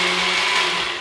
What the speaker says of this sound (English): I'm gonna put this all in, blend it until it's thoroughly mixed.